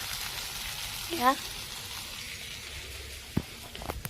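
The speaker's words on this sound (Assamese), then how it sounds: "গধূলি চাহ খাবৰ কাৰণে বুট ভাজিছোঁ মই" Chickpeas fry in a pan for evening tea, a steady low sizzling hiss with a few scattered clicks and stirring knocks toward the end.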